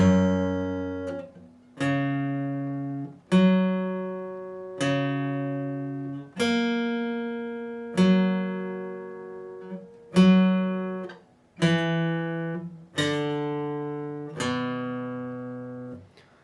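Slow guitar intro of a song: single plucked notes and chords ring out one after another at an unhurried, even pace, each decaying before the next.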